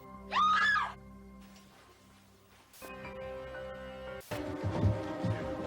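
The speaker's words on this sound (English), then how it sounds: "I heard a scream." A scream from the Night Trap video game rises sharply and briefly near the start, followed by low ambient game sounds and a rustling, rain-like hiss.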